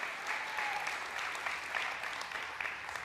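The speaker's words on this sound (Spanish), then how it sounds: "Si va a darle un aplauso a él, déselo con fuerzas." A church congregation applauds steadily, a soft, even wash of many hands clapping at a distance, continuing throughout without a break.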